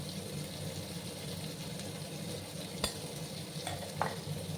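Potatoes fry in a pan with turmeric and salt for a fish curry, giving a low, even sizzle with a couple of brief clinks from stirring.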